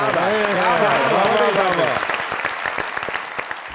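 A studio audience on a comedy talk show bursts into applause, dense clapping that starts loud and thins out, layered over a voice talking and music at the start.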